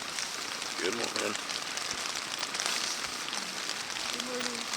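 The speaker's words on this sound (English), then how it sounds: "You probably hear the rains clattering on the tent right now." Steady rain clattering on a tent at a campsite by the Cline River, a dense, even patter filling the morning, with a faint voice briefly underneath.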